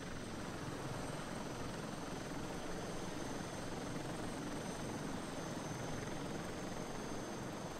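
An aircraft in a flight simulator game drones steadily as it flies over photoreal scenery, a constant, even engine and rotor noise with no breaks.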